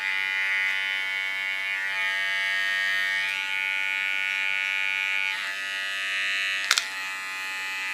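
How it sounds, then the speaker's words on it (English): An electric hair clipper buzzes steadily close by while cutting a woman's short hair, a bright sustained whine with slight pitch dips as it moves through hair and a brief sharp click near the end. "Put my clipper in a going position again"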